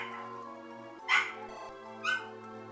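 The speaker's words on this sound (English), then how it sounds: "She is just kind of whiny because she's a puppy." A young puppy whines and gives two short, sharp yips about a second apart, fairly close, over a steady low hum in an indoor room.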